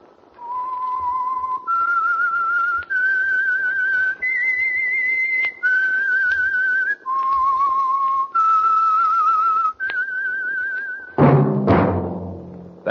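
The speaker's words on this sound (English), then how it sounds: "That whistle is your signal" A lone whistler plays a slow melody of about nine sustained, clear notes as the theme of an old radio mystery drama, followed at the end by a sharp, loud burst that fades away.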